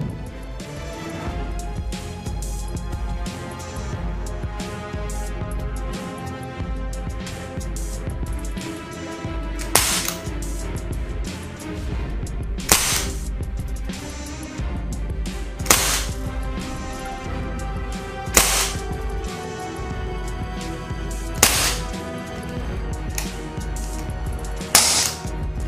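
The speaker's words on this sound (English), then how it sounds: "2 shots. 2 BBs came out at the same time." An ASG Bersa BP9CC gas blowback airsoft pistol firing BBs, five or six sharp snapping cracks spaced a few seconds apart over a steady low background hum.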